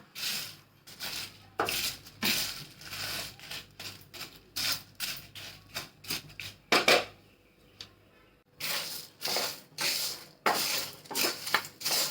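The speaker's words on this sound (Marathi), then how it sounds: "भाजला गेल्या बघा मसाला" Biryani masala spices roasting and being stirred in a pan, with a steady run of scraping and clinking strokes against the metal, close and fairly loud, with short pauses between bursts of stirring.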